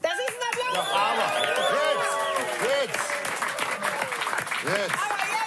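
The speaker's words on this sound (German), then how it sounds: "Das ist ein Applaus!" A studio audience at a late-night talk show claps and cheers loudly and continuously, with whoops and excited voices rising over the dense clapping throughout.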